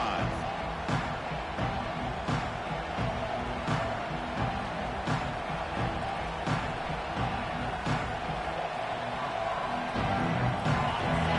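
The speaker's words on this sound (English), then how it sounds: "Listen to the crowd energy here in the early going." Stadium crowd at a college football game between Oregon and Ohio State roars steadily as a dense, loud wash of cheering that stays constant throughout, with faint thumps scattered through it.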